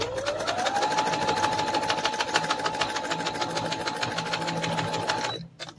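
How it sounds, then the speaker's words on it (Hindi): A sewing machine stitches across the gathered fabric of a frock dress, running at a steady fast whir with a rapid even needle clatter throughout before stopping abruptly at the end, close and loud with no talk. "अब इसके ऊपर मैं स्टिच कर रही हूँ"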